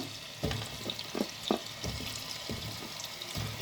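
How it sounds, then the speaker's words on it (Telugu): Potatoes and drumstick pieces fry in oil in a pan for drumstick curry, a steady low sizzle broken by scattered scrapes and clinks of stirring, close and fairly quiet, with no talking. "పచ్చివాసన పోయే వరకు ఫ్రై చేసుకుందామమ్మా"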